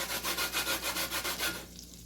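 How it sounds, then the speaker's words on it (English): A lemon is grated for zest in about eight quick, even rasping strokes, close and fairly soft, before the scraping stops. "Lemon zest."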